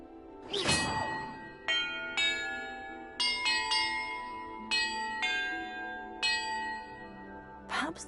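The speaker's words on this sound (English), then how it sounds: "the order I'm supposed to ring the bells in" Bells ring one after another in Hogwarts Legacy, about nine clear metallic strikes at uneven intervals with long resonant decays overlapping, moderately loud with a soft whooshing sound at the start and end.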